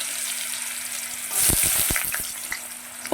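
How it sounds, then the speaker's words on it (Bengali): Potatoes frying in a pan with panch phoron and a dried red chilli: a steady close sizzle, then a run of sharp pops and stirring knocks in the second half, no voices. "আলুটাও খুব ভালো করে ভেজে নেব"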